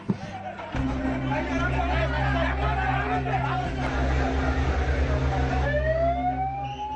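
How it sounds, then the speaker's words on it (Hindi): An ambulance siren wails steadily at a deadly disaster scene in Mumbai, with low rumbling engine drone and crowd chatter around it, its pitch sweeping upward near the end. "यहाँ एम्बुलेंस का शोर है"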